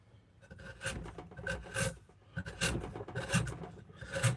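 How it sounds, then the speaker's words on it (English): Wood gouge pushed by hand through willow while carving a large bowl, giving faint, soft scraping strokes in an uneven rhythm, close and quiet with no talking. "using the gouge as a push tool"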